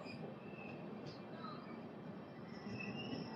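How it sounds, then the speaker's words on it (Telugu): Secunderabad to Repalle Express with a WAP-4 locomotive, halted at Miryalaguda on a single-line route, gives a steady rumble of rail noise with faint high squeals across the whole stretch. "సికింద్రాబాద్ నుంచి రేపల్లి వరకు వెళ్ళే రేపల్లి ఎక్స్ప్రెస్ ఇది."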